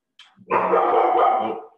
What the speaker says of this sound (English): That's my dog trying to let us know that there's someone outside